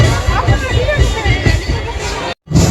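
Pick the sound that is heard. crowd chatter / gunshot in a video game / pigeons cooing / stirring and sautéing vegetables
crowd chatter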